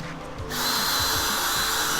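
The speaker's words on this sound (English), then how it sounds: "I'm just gonna go ahead and clean this thing up with a wire brush on a drill." A drill spins up abruptly and keeps whirring loudly with a harsh, scratchy grinding as a wire brush scrubs rusty metal up close.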